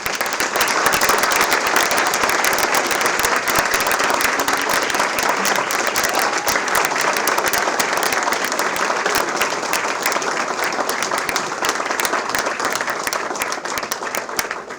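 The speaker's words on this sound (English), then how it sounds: "Okay, round of applause for all of our students." Sustained applause from an audience at a school board meeting, honouring students, a dense, even wash of clapping at full volume that carries on steadily for the whole stretch without voices.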